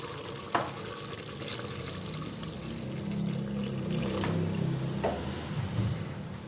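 Water pours steadily into a cooking pot of kachnar (orchid tree bud) and meat curry with a soft splashing trickle, fairly quiet, with a couple of light clinks along the way.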